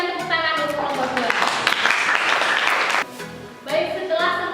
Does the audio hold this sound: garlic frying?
no